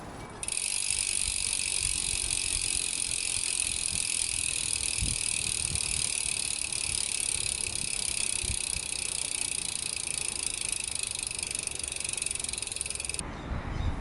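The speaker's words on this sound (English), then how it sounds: "I really like how the hub sounds on the bike." Rear hub of a 2021 Giant Fathom 2 29 mountain bike freewheeling, a steady, fast, continuous ticking buzz of pawls that runs unbroken for about thirteen seconds before stopping, close and fairly loud with no talking.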